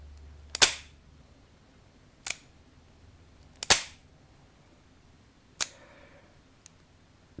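Dry-fire double-action trigger pulls on a Ruger GP100 .357 Magnum revolver produce four sharp, close metallic clicks spaced about a second or more apart, crisp and isolated against near silence.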